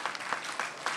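A short burst of audience applause at a Washington, D.C. mayor's public-safety event in Ward 8, with steady, moderately distant clapping and no voices over it.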